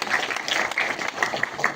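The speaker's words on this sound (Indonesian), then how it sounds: "ini tunas tepuk tangan untuk penabuh ini" Applause for gamelan musicians at a Balinese comedy performance at Pura Dalem Kutuh, a brief burst of dense clapping from a crowd with some faint voices mixed in.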